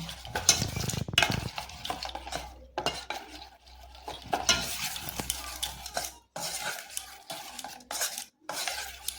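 Eggs being mixed by hand in a bowl with sour yogurt for a Bengali steamed egg dish, giving soft wet squelching and stirring with light clinks of a bowl, up close, with no talk.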